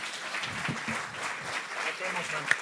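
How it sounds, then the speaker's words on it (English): Audience clapping at a startup sales talk event, a steady wash of applause from a crowd lasting the whole stretch, with a voice speaking over it. "Great applause to him."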